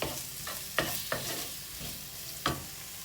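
Spicy vegan potatoes with red pepper being mixed in a frying pan: a soft continuous sizzle broken by several distinct scraping strokes of a spoon against the pan, heard up close and alone.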